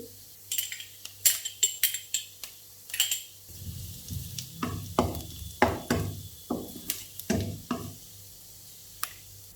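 Onion and finely chopped ginger stir-fried in a pan, a quiet sizzle under repeated scraping and clinking of a spatula against the pan, close and without talk.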